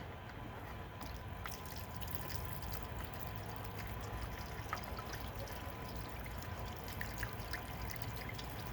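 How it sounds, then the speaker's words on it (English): Water pours and trickles steadily over freshly tumbled rocks from a rock tumbler, a continuous faint splashing outdoors with no voices. "All right, give that a rinse."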